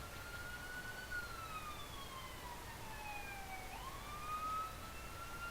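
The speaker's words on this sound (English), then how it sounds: "Another fire truck." A fire truck siren wails at a distance, its pitch sliding down and then up again over steady background noise.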